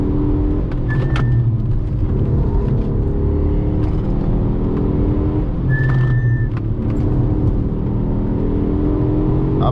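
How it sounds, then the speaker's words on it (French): Grooved Tarox F2000 brake discs rub against Carbone Lorraine RC6 pads during braking on a car, a coarse rasping grind under steady road and engine noise, with two brief squealing whines a few seconds apart. "C'est juste du bruit des rainures qui sont en train de râper la gueule de la plaquette quoi."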